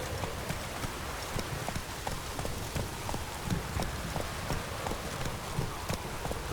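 Roach the horse galloping in The Witcher 3: Wild Hunt, a rapid steady drumming of hoofbeats over a dense hiss like rain, loud and continuous throughout.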